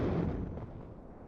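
A heavy artillery blast in the WARNO war game decays into a long, rumbling tail, loud at first and fading steadily over about a second, with no voices.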